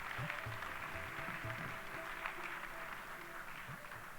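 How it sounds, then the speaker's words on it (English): Faint audience applause at a formal ceremony honouring the Chief Justice of India, a steady patter of clapping with low thumps, heard from a distance. "a resounding round of applause for the Honorable Chief Justice of India"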